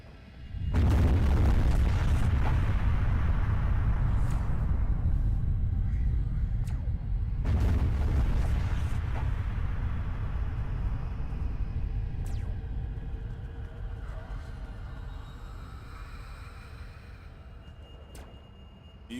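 Big in-game explosion in the puzzle game Magrunner: Dark Pulse, a deep rumbling boom that swells at once, is followed by a second blast around the middle, then a long low rumble that slowly fades out.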